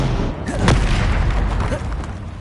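A Bombarda spell blast in the Harry Potter Legacy video game during a troll fight, a loud dense boom that swells and rumbles for a couple of seconds amid continuous game noise.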